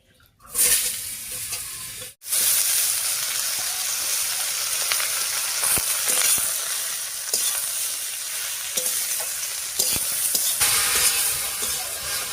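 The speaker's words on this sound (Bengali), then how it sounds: "ফোড়নের উপরে লাউটা দিয়ে একটু নাড়িয়ে নিয়েছি।" Bottle gourd hits hot oil tempered with cumin seeds and bay leaf, a loud, sustained sizzle broken by scraping stirs of a spoon against the pan.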